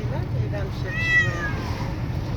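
Cats meow inside a car on their first trip out of the house, a drawn-out plaintive meow rising over steady road rumble, with a person talking at the same time.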